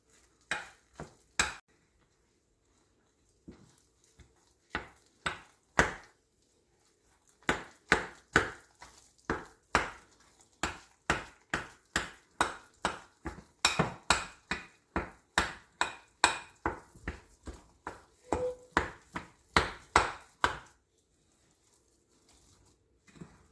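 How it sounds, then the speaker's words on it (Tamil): Blueberry pancake batter made without maida is beaten by hand in a bowl, producing close, rhythmic stirring strokes about two per second, with short pauses between runs and no talking. "இப்போ அந்த மாவோடு நாம் நல்லா இதை மிக்ஸ் பண்ணணும், கட்டி இல்லாமல்."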